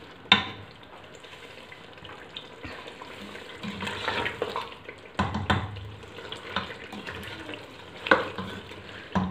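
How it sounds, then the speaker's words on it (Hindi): Mutton and tinda, or apple gourd, are fried in oil with a spoon stirring, giving a soft continuous sizzle broken by scraping clanks and louder bursts as the pieces are turned. "अब इसको गोश्त को और टिंडों को हम भून लेंगे"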